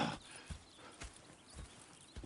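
Horse hooves in Red Dead Redemption 2 clop in a slow, even rhythm, about five distinct thuds spaced roughly half a second apart against a soft background hiss.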